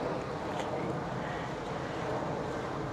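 Wind buffets a microphone outdoors, a steady loud roar with no breaks.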